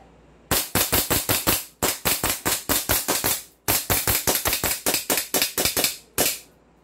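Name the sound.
Hi-Capa airsoft gas pistol being fired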